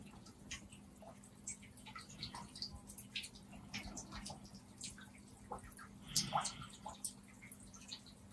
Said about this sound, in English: listening to the gentle water